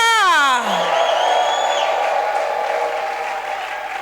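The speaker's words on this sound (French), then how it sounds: "Put your hands together for Jesus." A church congregation bursts into loud applause and cheering for Jesus at a banquet service, with whoops and shouts rising after a brief spoken call.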